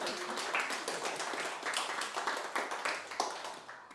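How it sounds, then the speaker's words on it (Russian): An audience claps together in a moderately faint, uneven burst of applause that thins out toward the end, heard at a lecture on Titian's painting of Saint Sebastian. "В этом месте должны быть аплодисменты."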